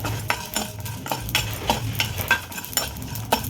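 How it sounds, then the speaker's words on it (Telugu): Whole spices for chana masala dry-roasting in a pan, a steady soft sizzle with repeated scraping and stirring clinks of a utensil against the metal, close and continuous with no voices. "ఓకేనండి, వేగిపోయాయి ఇవి మసాలాలన్నీ"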